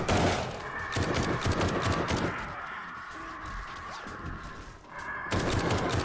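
Rapid bursts of gunfire in 7 Days To Die, dense volleys of shots that pause briefly and then resume, loud and close.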